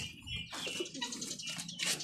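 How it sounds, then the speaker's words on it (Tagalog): Pigeons leaving their loft: soft cooing and bird calls mixed with rustling and flapping, close by and fairly busy throughout, with no voices over them. "Labas na sila mga kalapatids."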